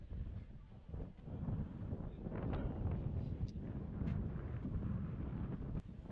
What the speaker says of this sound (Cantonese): 你見嘅風車出嚟，知道而家有幾大風。